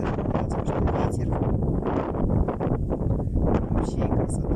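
Strong coastal wind at Vityaz Bay buffets the microphone in a loud, continuous roar with gusty surges and rustling, and no voices over it.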